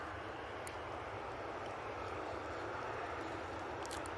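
A TUI airliner taxis out at Manchester Airport, its jet engines producing a steady, broad roar at a distance, continuous and faint throughout with no voices.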